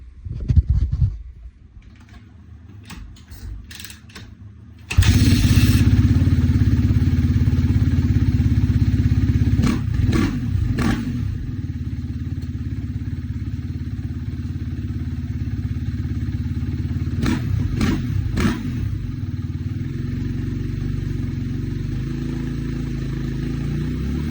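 A 2016 Kawasaki KX250F dirt bike engine, freshly valve-shimmed, gets a few clattering kick attempts and then fires up, settling into a loud, steady idle with occasional blips of the throttle close by.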